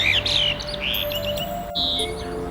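Wild birds in a garden chirp and tweet in quick overlapping calls, several bright close notes rising above a soft background hum, with no voices present.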